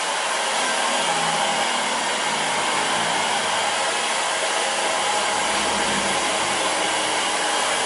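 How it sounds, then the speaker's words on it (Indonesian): A cheap hair dryer runs loud and steady for the whole stretch, a constant noisy whoosh with no other sounds, used while styling a two-block Korean comma haircut. "hair dryer saya ini cuman harga 1 jutaan aja, jadi suaranya agak berisik ya"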